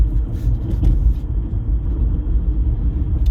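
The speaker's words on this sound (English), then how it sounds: "I'm on the road and I'm driving." A car driving on the road at night, a steady low engine and road rumble heard from inside the cabin, continuous and fairly loud with no talk.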